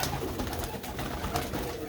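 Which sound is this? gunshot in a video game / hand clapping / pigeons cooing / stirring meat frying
pigeons cooing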